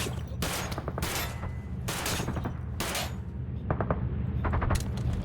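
Bursts of automatic gunfire from a video game, several loud rapid volleys separated by short gaps over a constant low rumble.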